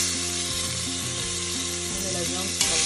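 Beef cubes brown in the bottom of a pot for bœuf bourguignon with a loud, continuous close sizzle and faint crackles, and a brief clink near the end.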